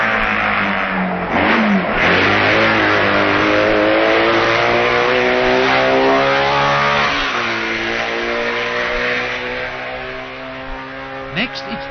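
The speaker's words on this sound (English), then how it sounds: "Scheidegger blasts his BMW round Quarterbridge first." A BMW racing engine at the 1965 Isle of Man TT roars past at Quarterbridge, loud and sustained, its pitch rising then dropping as it goes by while a commentator talks over it.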